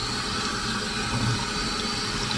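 Running tap water rinsing out a raw turkey in a sink, a steady broadband splashing stream that holds evenly throughout.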